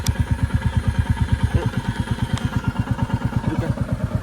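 A Royal Enfield Bullet motorcycle idles close by, its single-cylinder thump beating in a steady, even rhythm with a light mechanical clatter over it.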